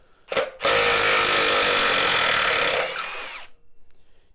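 A Milwaukee 3/8-inch impact wrench whirs in one loud, steady burst of about two seconds after a brief blip, then winds down and fades.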